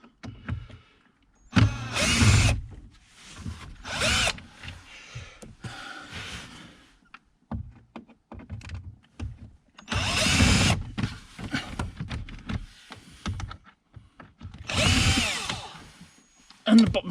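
A power drill whirs in several short bursts while removing screws near the steering column of a 1991 Toyota Celica GT, with quiet handling noises and breaths between runs.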